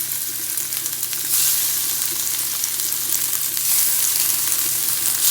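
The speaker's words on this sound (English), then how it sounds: "Without crowding the pan, I'm going to just very quickly fry those off." Pork fillet frying in olive oil in a cast iron pan, a loud, close, continuous hiss of sizzling fat that swells noticeably partway through and stays busy to the end, with no talking.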